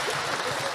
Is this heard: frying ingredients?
no